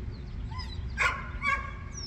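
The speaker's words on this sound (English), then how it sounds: "the dogs that are barking behind me" Dogs bark a few times in the background on a morning outdoors in Yosemite: two short, fairly distant bursts about half a second apart over steady low rumble, with no talking.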